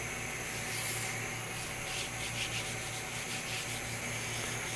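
A hand rubs stain back and forth across an engraved wooden sign, producing a steady, continuous scratchy rubbing at close range with no pauses and no talking.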